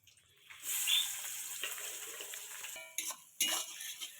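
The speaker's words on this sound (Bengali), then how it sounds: "কাঁচা লঙ্কা আর পেঁয়াজ তেলের মধ্যে দিয়ে দেবো" Green chillies and onion drop into hot oil in a pan while cooking chicken, setting off a sudden hissing sizzle that fades a little before two sharp bursts near the end.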